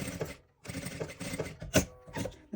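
A sewing machine runs in short bursts of rapid mechanical stitching on a handmade toy fox, stopping and restarting several times at close range with no voices.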